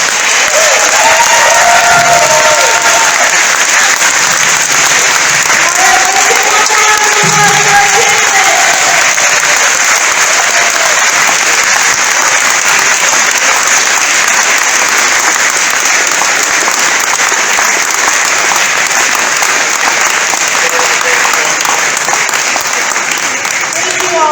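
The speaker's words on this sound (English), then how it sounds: "one more applause for our candidate" Audience at a Minnesota GOP gubernatorial debate applauding a candidate after closing remarks, a steady loud wash of clapping with crowd noise sustained throughout, with some voices talking underneath.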